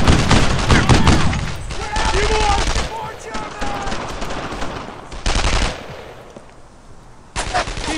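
Gunfire in the World War II shooter game Brothers in Arms: Earned in Arms, loud dense bursts of rifle and machine-gun fire with heavy booms, pausing briefly and then resuming, with shouted voices in the mix.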